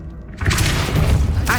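A Depulso spell cast in the video game Hogwarts Legacy bursts out after a short lull as a loud, crashing thud with a shattering edge, sustaining a heavy rumble to the end.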